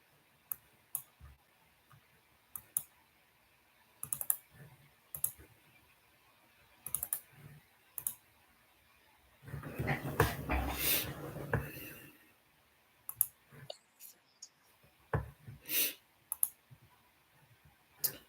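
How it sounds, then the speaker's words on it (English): Computer mouse clicks and keystrokes tap out in scattered, close bursts while navigating a Top Step X futures trading platform, with a louder rustling patch in the middle and a voice speaking faintly at times. "That's me clicking around on my Top Step X."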